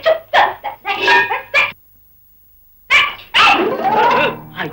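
Dog barking in a Tamil comedy film scene: a burst of several sharp, loud barks and yips, a short pause, then more barking with a whining, whimpering tail, close and without talk.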